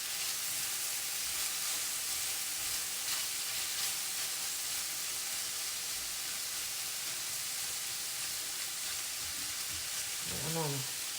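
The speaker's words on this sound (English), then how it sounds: "I'm gonna let that just saute for a minute" Onions sauté in a pan until translucent, a steady, soft, even sizzle that lasts throughout, with a brief voice sound near the end.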